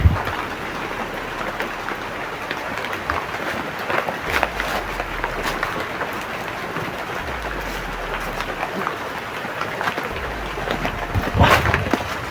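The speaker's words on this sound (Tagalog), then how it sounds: "Sumabay pa sa atin yung ulan." Steady rain patters continuously in the background, a soft even hiss with occasional louder drops, no voices.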